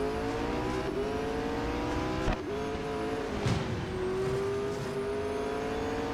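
In the racing game Real Racing 3, a supercar engine drones and revs steadily, its pitch rising and dipping with throttle changes, with a couple of brief bumps along the way.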